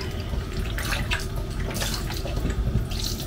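Cold water runs from a kitchen tap over raw meat being rinsed in a sink, a steady close splashing stream with brighter bursts as the flow hits the meat.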